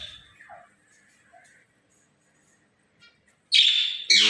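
A pet myna makes a few soft, sparse chirps at first, then suddenly lets out loud, harsh, raspy calls right up close near the end.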